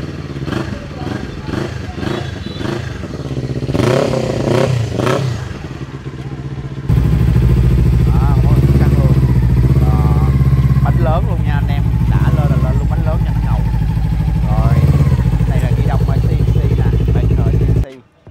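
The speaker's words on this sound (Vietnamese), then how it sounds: "Để nghe cho anh em nghe tiếng bô." A Kawasaki Z400 motorcycle with an aftermarket exhaust, first ticking and blipping, then holding a loud, steady, throaty rev for about ten seconds before cutting off.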